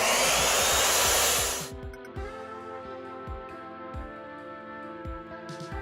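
A power saw rips a narrow strip off a metal track, loud and broadband for the first second and a half, then cuts off into a ringing hum with repeated low knocks and clatter from handling the piece.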